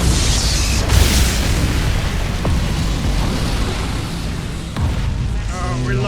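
A battleship explodes in the space strategy game Battlefleet Gothic Armada 2: a loud booming blast opens, then a long rumbling roar decays with crackling debris, ending in a faint electronic warble.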